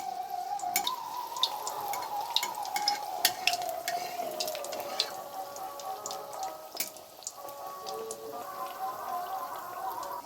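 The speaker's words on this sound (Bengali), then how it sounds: "এখন মালপোয়াগুলো ভেজে নেব কড়াইটা বসিয়ে দিয়েছি তেল দিয়ে দিলাম" Malpua batter frying in hot oil in a kadai, a steady sizzle and crackle running throughout with occasional sharper pops, close and fairly loud.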